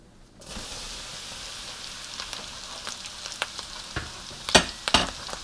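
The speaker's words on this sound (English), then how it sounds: "I'm just going to continue to fry this stuff in batches." Kung Pao ingredients deep-frying in batches in oil on an electric stove give a steady soft crackle, with sharper pops and spits flaring near the end.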